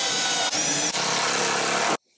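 A power drill or driver runs steadily, driving screws into the wooden fence of a crosscut sled for a Laguna Fusion 3 cabinet saw. The whine is loud and close, with two brief dips before it stops abruptly.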